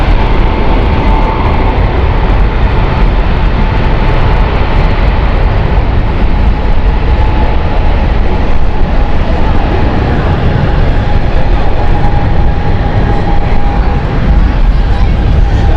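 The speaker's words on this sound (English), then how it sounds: "the 777 to Sao Paulo is now taking off" A KLM Boeing 777 bound for Sao Paulo taking off, its loud, steady jet-engine roar running continuously throughout while a voice talks over it.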